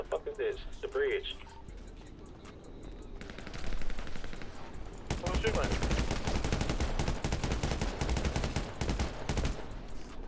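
Video game gunfire crackles in rapid automatic bursts, sparse at first and then loud and continuous through the second half, with players talking over it.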